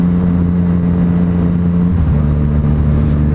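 A Yamaha MT-09 motorcycle engine runs loud and close in a steady, throaty drone, its pitch dipping slightly partway through before holding steady again.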